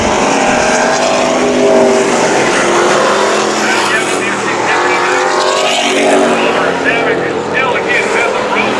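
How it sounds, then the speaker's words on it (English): Street stock race cars roaring around the oval at Havasu 95 Speedway during a feature race, a dense, loud wall of engine noise with passing swells, while a race announcer talks over it. "he's starting to open up a lead over Savage's number 11 machine"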